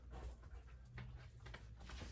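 A dog pants steadily in the background of a room with music playing, the soft rhythmic breaths continuing under the other sounds throughout.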